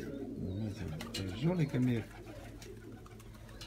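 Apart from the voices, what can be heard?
Armenian tumbler pigeons cooing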